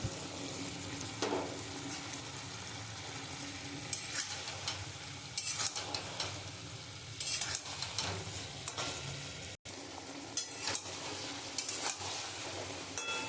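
Ridge gourd frying with poppy seed paste in a pan, a continuous close sizzle broken by scraping stirs and occasional clinks of the utensil against the pan, with one brief dropout.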